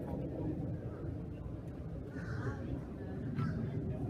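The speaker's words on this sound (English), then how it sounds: "Crows! I think these might be crows." Crows caw a few times in the distance, harsh calls coming through over a steady low rumble of background noise.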